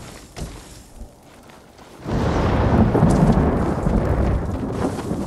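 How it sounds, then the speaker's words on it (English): Firecrackers go off in the Ghost of Tsushima video game: a sudden dense burst of crackling noise starts after a quiet stretch and keeps rumbling and sputtering loudly, with no talk. "I do like me some firecrackers."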